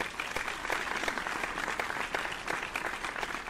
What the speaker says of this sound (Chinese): 请给大家自己一个温暖的掌声。